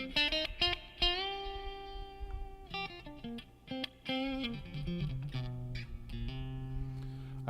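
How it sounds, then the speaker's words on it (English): Electric guitar, a PRS Mark Holcomb, playing a run of distorted single notes and chords through a 2017 Vox AC30C2 amp, with a lingering amp-reverb tail behind each phrase; no voices. "and then this is just the amp reverb."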